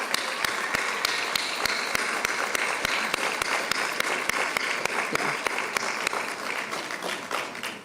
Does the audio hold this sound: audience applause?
yes